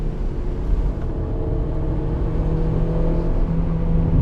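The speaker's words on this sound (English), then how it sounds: "the sounds of the turbo spooling up" A Mazda Familia GT-X turbo sleeper car runs with a steady, close engine drone, its turbo spooling up as a faint whine rises over the rumble, with no talk.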